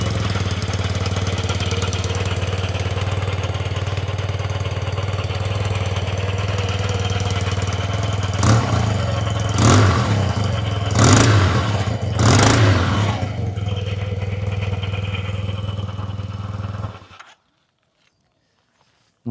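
A Yamaha TMAX 530 DX scooter engine idles with a steady low hum, then revs sharply four times in quick succession before settling, close and loud, and finally cuts off into silence.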